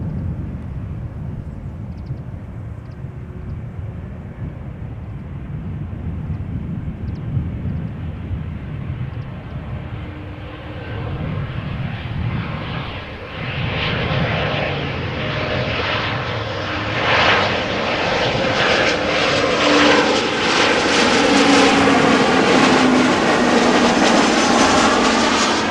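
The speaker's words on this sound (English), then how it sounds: "there are two Embraer 175s following it. One arriving from Luxembourg, one coming in from Norwich." Embraer 175 jets arriving at Amsterdam Schiphol Airport, a broad engine roar that swells steadily over about twenty-five seconds as an aircraft approaches, growing louder and brighter toward the end, with no talk.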